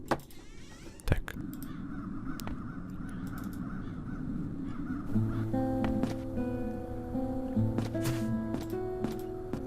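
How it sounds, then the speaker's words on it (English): Crows caw in the fantasy adventure game The Dark Eye: Chains of Satinav, harsh repeated calls over an ambient backdrop that shifts into sustained musical tones partway through, with no voices. "Those peculiar crows."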